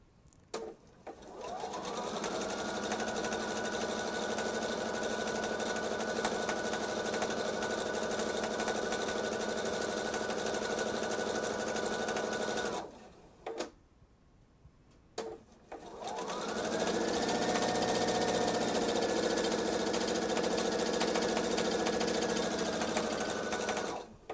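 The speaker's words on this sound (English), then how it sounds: "I'm going to sew it until it just reaches the edge, or reaches the top of the counter that my machine is sitting on" A sewing machine runs steadily through Jelly Roll fabric strips in two long continuous runs with a short pause between them. The motor whirs loud and close.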